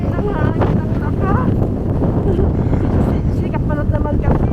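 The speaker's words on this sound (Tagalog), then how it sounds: "Snowstorm, kaya malakas ang hangin." Strong snowstorm wind in Toronto roars and buffets the microphone in loud continuous gusts, while a person talks close by over the noise.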